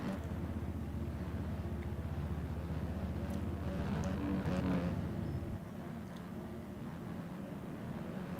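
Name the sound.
race car engine idling off track in racing video game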